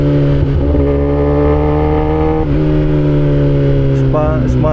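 Kawasaki ZX-10R sport motorcycle engine held at a steady loud drone while riding, with a brief dip and then a rising rev near the end, close and dominating over road and wind noise.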